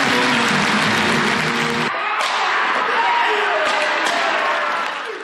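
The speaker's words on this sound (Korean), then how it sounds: "화려한 발차기 시범에 박수가 쏟아지는데요" Crowd applause bursts out during a taekwondo kicking demonstration at a joint inter-Korean performance, dense sustained clapping from a large audience with music at the start.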